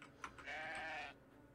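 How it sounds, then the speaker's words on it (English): A sheep with a plant growing on top of it bleats once in the video game Amillusion, a brief, clear, wavering cry over faint background ambience. "It's a sheep with a plant on top of it."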